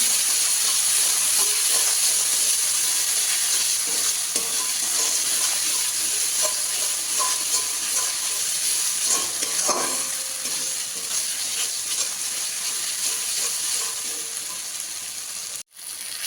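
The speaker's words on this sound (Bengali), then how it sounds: "লবণ দেবো, হলুদ দেবো। মশলাটাকে এবার ভালো করে কষিয়ে নেব।" Spice paste with salt and turmeric sautéing in a pan for a mustard-based rui bhola recipe, giving a steady close sizzle and hiss with occasional stirring scrapes, no talking.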